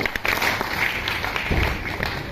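Audience applause at a training session, a continuous wash of many hands clapping at moderate loudness with scattered sharper claps and some crowd noise throughout.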